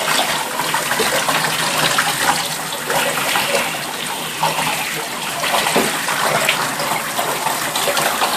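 Water runs steadily into a bathtub while tomato juice is rinsed off a dog's coat, a continuous splashing gush close by with no talking.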